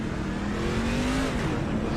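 A NASCAR Craftsman racing truck pulls out of the pit lane at the COTA circuit, its engine revving in a steady, rising drone that stays loud for the whole stretch, with no talk over it.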